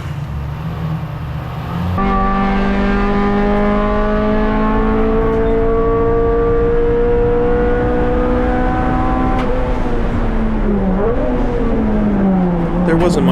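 A Subaru on a race track, following a white Civic Type R, gives a steady in-car engine drone that starts abruptly and holds a sustained, slowly rising pitch before easing off, with a voice talking over it at times.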